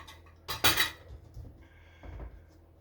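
A small cutting board and metal utensils clatter in a kitchen while apples are prepared for turnovers, with a sharp rattle of cutlery near the start and a softer knock about two seconds in.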